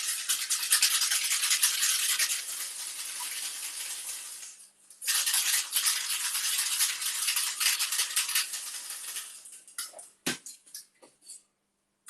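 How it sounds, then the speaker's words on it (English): Cocktail shaker dry-shaken without ice, a strainer spring rattling inside, while making an amaretto sour or daiquiri at a bar. Steady, close, fast swishing rattle for several seconds, a short pause, then more shaking ending in a few separate knocks. "the first dry shake is going to encourage this drink to make a real nice foam"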